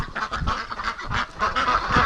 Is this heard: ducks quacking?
yes